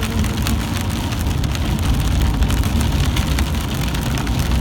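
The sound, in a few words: rain during a car ride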